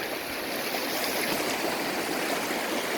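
Steady, full rushing of the Kitimat River in Canada flowing past a riverside picnic spot, a loud continuous broadband wash of water with no pauses and no voices.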